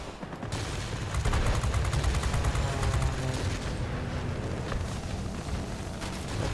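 Sustained rapid machine-gun fire from a Bf 110 C-6 heavy fighter in World of Warplanes, dense rattling bursts layered over a steady engine drone, loud and continuous with no talking.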